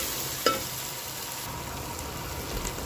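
Pounded green chilies with garlic and ginger fry in a pan, giving a steady close sizzle with one sharp clink of a utensil and light stirring.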